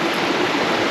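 Creek water rushing steadily through a deeply washed-out creek bed, a loud, close, continuous broadband flow with no voices.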